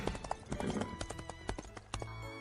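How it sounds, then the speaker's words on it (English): A horse's hooves clip-clop in a quick rhythm, and a whinny rises over them, close and clear for a couple of seconds. "H for horse."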